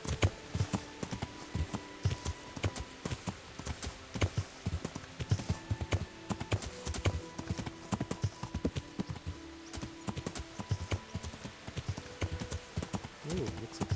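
Horse hooves clip-clop steadily in Kingdom Come Deliverance, a brisk repeated rhythm of moderately loud hoofbeats running the whole time, with someone speaking over them now and then.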